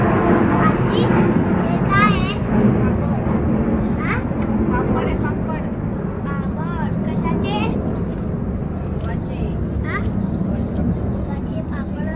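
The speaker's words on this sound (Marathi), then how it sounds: "आमच्या इथे विमानांचा आवाज खूप जवळ येतो" A steady, broad roar of low-flying airplanes close overhead, typical near an airport, runs throughout, with faint chatter and chirping birds in the background.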